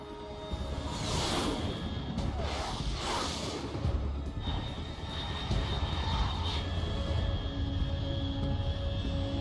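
A fast aircraft in the video game Metal Gear Solid 3 passes with several loud whooshing surges over a steady engine drone and a faint electronic hum.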